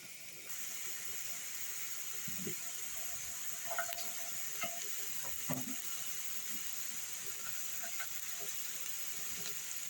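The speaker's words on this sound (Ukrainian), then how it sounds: "наливаю олії і смажу" Onion and carrot sizzle quietly in hot oil in a pan outdoors, a steady hiss with a few soft stirring knocks and pops scattered throughout.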